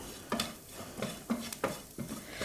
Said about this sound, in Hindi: कसूरी मेथी को डाल के हमें अच्छे से भून लेना है